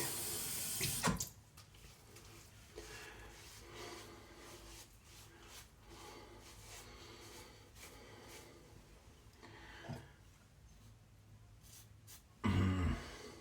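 A razor rinsed under a running bathroom tap, water flowing at a low steady level with rubbing and handling sounds and a few louder splashes at the beginning and end, no talk.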